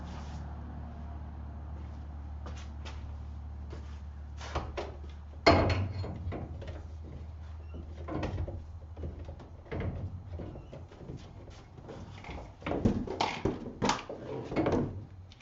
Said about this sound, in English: That is the nice sound of a charging station plugging the car in.